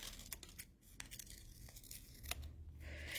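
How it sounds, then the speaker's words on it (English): Scissors snip through a folded sheet of paper while a circle is cut out, giving a run of close, crisp cutting and tearing sounds with light paper crinkles between them. "so I just have this piece of paper folded in half. I'm going to cut it into a circle."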